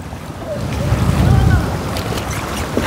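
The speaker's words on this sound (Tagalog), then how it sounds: "O ayan, malakas na yung alon dito." Strong sea swell and wind wash around a tour boat off El Nido, Palawan, a steady broad roar of water and wind buffeting that swells midway and then eases, close and loud.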